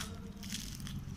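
A fried onion pakora (pyaji) topped with green chutney gets bitten and chewed up close, giving a brief run of soft crunching with no speech.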